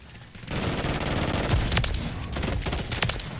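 Rapid pistol gunfire from a Renetti in a video game, a dense run of sharp shots that starts after a brief quiet moment and stays loud and steady, with a few stronger cracks standing out.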